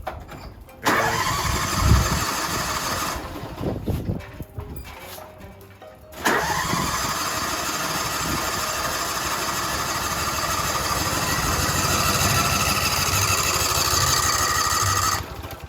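A car engine cranks and catches briefly, stumbles as if starved of fuel, then restarts and settles into a rough, loud, steady idle for the remaining ten seconds.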